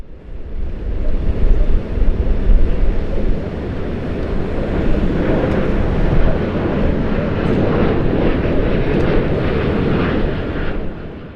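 Flair Airlines Boeing 737 MAX making a celebratory low pass, its jet engines building to a loud, rumbling roar that holds steady and then starts to fade, with wind buffeting the microphone.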